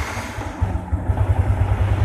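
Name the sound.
Yamaha MX King 150 motorcycle engine starting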